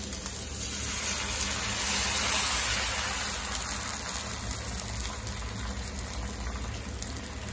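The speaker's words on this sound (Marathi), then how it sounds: "तर इथे बघा मी पाणी टाकते।" Water pours steadily into a hot pan during chilli cheese preparation, a continuous rushing, bubbling gush that swells in the middle and then settles into a softer sizzle, close and unbroken, with no talking.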